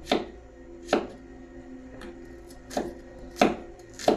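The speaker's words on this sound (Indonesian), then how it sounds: "aku pakai bawang merah aja. Dipotong-potong ya" Shallots being chopped with a knife on a cutting board for sambal, five or six sharp, separate knocks at an uneven, unhurried pace, close and clear, with a quiet background and no speech.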